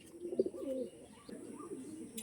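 Original Andhra pigeons coo in a few soft, throaty rolling phrases, close by, one swelling note followed by quieter repeated coos, with faint chirps in the background and no one talking.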